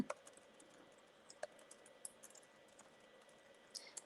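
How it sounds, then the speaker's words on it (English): Faint, scattered clicks of keys being tapped on a keyboard, soft and irregular against a quiet background. "let me get my typing together"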